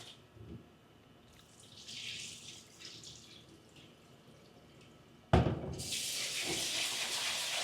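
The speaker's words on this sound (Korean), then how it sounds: "찹쌀 500g이에요. 깨끗하게 맑은 물이 나올 때까지 씻어 주시고요." Running tap water splashes while 500 g of glutinous rice is rinsed for five-grain rice, with faint trickling and drips at first, then a sudden loud, steady gush from the faucet.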